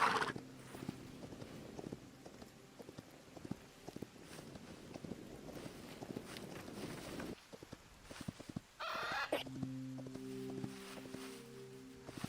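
Horse hooves clip-clopping at a steady riding pace in the video game Hytale, a continuous rhythmic patter under wind-like ambience, pausing briefly before game tones take over.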